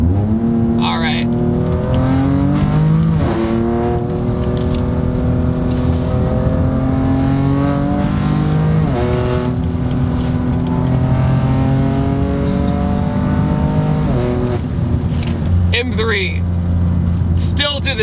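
A 540 hp BMW M3 runs at high speed, its engine note rising and falling in smooth sweeps as the throttle is eased on and off, loud and steady, with someone talking over it.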